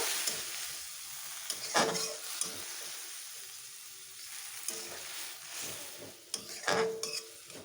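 Water goes into a pan of cooking vegetables, raising a few sharp sizzling bursts with the scrape and clatter of a spoon stirring, close by and with no one speaking.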